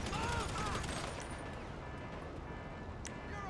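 Gunfire in GTA Online, a dense burst of rapid shots loudest at the start, then dropping to a steady rattling din with a few sharp cracks standing out.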